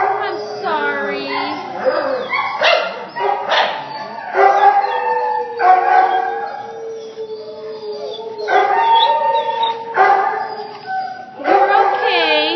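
A dog at a rescue shelter in Chino, California howls and whimpers in long, wavering, rising and falling cries, loud and close, repeating across the stretch with a person talking in between.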